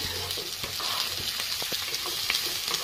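Dried red chillies with garlic frying lightly in hot oil, a steady close sizzle with small pops and crackles throughout, no voices.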